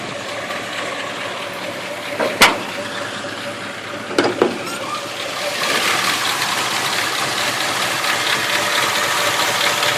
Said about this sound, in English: I'll show you the engine.